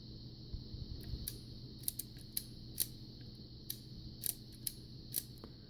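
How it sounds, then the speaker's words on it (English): Shutter of a 1950s Kodak Brownie Bull's Eye camera clicking several times at irregular intervals, with sharp, light mechanical snaps close up over a quiet background hum. "When we look on the back side, we can watch the shutter action."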